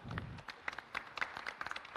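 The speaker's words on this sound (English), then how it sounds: "So big round of applause for them." Scattered, fairly faint applause from an audience at a valedictory session, a loose patter of individual claps over a couple of seconds.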